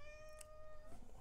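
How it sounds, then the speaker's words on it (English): A pet cat gives a single drawn-out meow, quiet and alone. "That's my cat."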